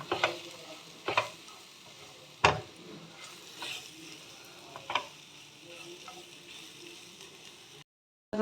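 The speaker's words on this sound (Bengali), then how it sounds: "গাজর সাজরগুলো গ্রেট করে দিয়েছি তো এগুলো একদম মিডিয়াম ফ্লেমে দিয়ে ভাজাটা করতে হবে" Grated carrots frying in a pan over a medium flame, a soft continuous sizzle with a handful of scraping stirs at uneven intervals, close and unaccompanied, ending in a brief silence.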